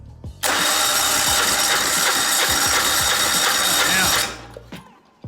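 A turbo diesel golf cart engine cranks and catches, then runs loud and close for about four seconds before shutting off with a few clicks after.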